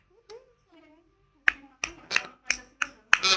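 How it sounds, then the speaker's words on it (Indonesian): Students clap for a classmate's presentation in a classroom, a handful of sharp, separate claps that build into a quicker burst, after a few faint voices. "Ya udah tepuk tangan dulu buat Monica."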